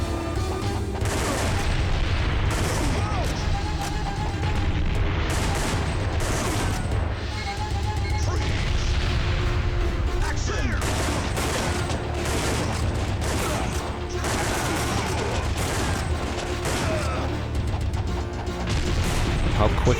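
Rapid gunfire and grenade blasts fill the Time Crisis arcade shooter on PlayStation 1 in a dense, loud, continuous barrage of shots and booms, with someone talking over the action.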